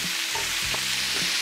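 Shrimp frying in rice bran oil in a pan over high heat, a steady close sizzle and crackle with faint stirring clinks, no voices.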